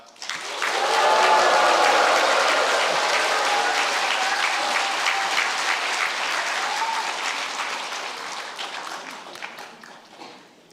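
A church congregation applauds and cheers in welcome during a Sunday worship service. The clapping is loud, dense and sustained for several seconds, then gradually thins and fades toward the end.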